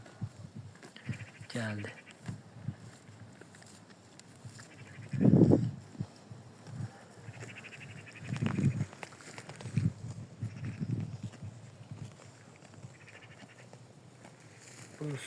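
Sheep in a pen, with a few bleats rising over low barn noise while someone talks at length nearby.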